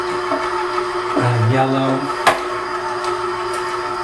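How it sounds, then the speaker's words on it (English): A KitchenAid stand mixer whirs at one of its lowest speeds while mixing cheesecake batter, a steady mid-level motor hum running under a person's talk, with a brief clatter near the end. "I've got a total of 10 speeds, so I'm at the way low end of what my KitchenAid can do"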